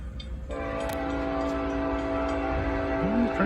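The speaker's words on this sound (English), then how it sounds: "That is the least scary train horn I think I've ever heard." A train horn sounds steadily near a building lot, a long sustained blare over rumbling rail noise, with a rising squeal of wheels near the end.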